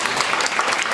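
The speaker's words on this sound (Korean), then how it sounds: "박수 한번 해주십시오" An audience at a Korean political gathering claps, a dense burst of steady applause from a crowd filling the whole moment.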